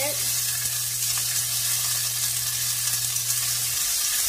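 Shallots sizzling in a pan with green beans, a steady bright frying hiss over a low constant hum that stops near the end, fairly loud and continuous, with no talking.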